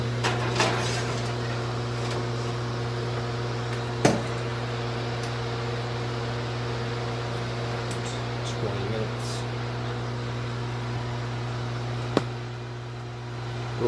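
A preheated oven baking powder-coated bullets gives off a steady low mechanical hum, with a few faint clicks and knocks over the drone and someone talking quietly.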